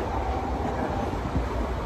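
A passenger train on a Mumbai to Tirupati journey, heard as a steady rumble with low wheel-on-rail noise running continuously at moderate loudness.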